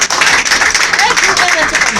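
A church congregation bursts into dense clapping and applause for two seconds, with a voice shouting over the noise.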